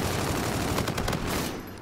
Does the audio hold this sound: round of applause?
no